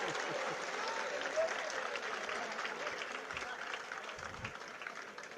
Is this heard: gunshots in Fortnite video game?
no